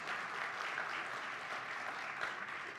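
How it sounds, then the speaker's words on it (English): An audience at a live awards event applauds steadily, a wash of many hands clapping at a moderate distance with no voices standing out. "So I want to give you a round of applause and your team"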